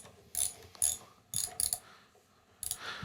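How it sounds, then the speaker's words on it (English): A ratchet clicks in short bursts while running a bolt into a newer Redding T7 reloading press, with four or five close, crisp ratcheting spurts separated by brief pauses. "you may have to take a ratchet or something and run it in"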